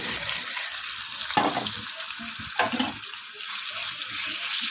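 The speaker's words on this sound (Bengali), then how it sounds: "তো মাংসটাকে আমি বেশি ভাজবো না, হালকা একটু ভাজা দিয়ে নিব আর কি। তো আমি মাংসটাকে একটু ভেজে নিই।" Chicken is lightly fried in a pan with ginger, garlic and chili, giving a steady close-up sizzle with a couple of brief louder hisses as the meat is stirred.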